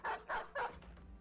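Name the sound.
dogs barking in the video game Battle Brothers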